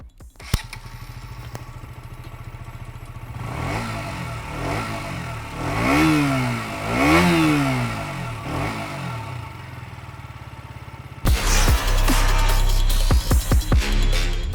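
A KTM Duke 125's 124cc liquid-cooled single-cylinder motorcycle engine idles, then revs up sharply twice in quick succession before settling, with a louder burst of engine noise near the end.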